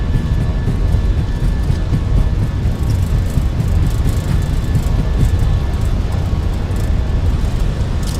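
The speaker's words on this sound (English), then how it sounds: "Takeoff power set. We're rolling." A Fenix A320 takeoff roll in Microsoft Flight Simulator 2024 makes a loud, constant low rumble of engines and runway, steady and unbroken.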